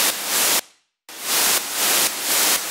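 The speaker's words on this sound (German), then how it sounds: "du merkst, das Rauschen kommt so ein bisschen weich rein" Synthesized white noise riser in an EDM mix, pumped by sidechain compression into repeated rhythmic volume dips, with a full drop to silence before the loud hiss swells back in. Bright, broadband and steady between cuts.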